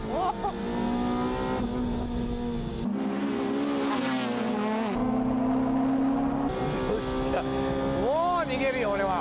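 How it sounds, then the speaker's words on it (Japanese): A Honda Civic EK and a Honda Accord, both with two-litre VTEC engines, in a close acceleration race, their high-revving engines whining and rising through the gears with loud shifts, while commentators talk over them. "さあ土屋 EK と服部アコードの加速勝負。"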